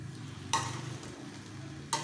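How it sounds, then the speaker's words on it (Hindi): Upma in a pan with chopped coriander leaves being stirred: two distinct scraping strokes of a spoon over a soft, steady sizzle, close and fairly quiet. "धनिया पत्ती भी डाल देंगे और मिलाएंगे"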